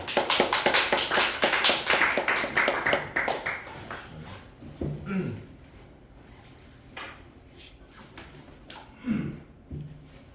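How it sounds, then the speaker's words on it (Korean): A church congregation at a breakfast worship service claps together in quick, rhythmic bursts, loud and dense at first, then thinning out and fading into scattered handling noises and quiet room sounds. "박수 한번 해"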